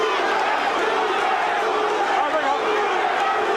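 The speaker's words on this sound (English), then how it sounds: "the crowd picks up the chant of Duran's name" A packed arena crowd at the Roberto Duran vs Iran Barkley boxing bout roars steadily and chants Duran's name during round 5, a dense, continuous mass of voices with no single speaker standing out.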